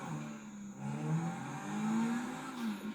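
A sports car's engine revs in Grand Theft Auto V, a low growling drone that swells and dips steadily across the moment, with no talking over it.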